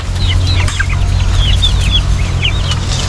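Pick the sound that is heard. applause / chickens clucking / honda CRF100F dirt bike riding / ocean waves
chickens clucking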